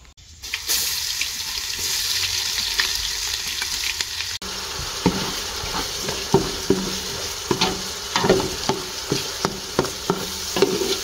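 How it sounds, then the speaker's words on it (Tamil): Ginger garlic paste frying in hot oil for Dindigul biryani, a steady close sizzle with stirring scrapes and occasional sharp clicks of a utensil against the pan. "நல்லா அதை பொன்னிறமாக வறுத்தெடுத்துப்போம்."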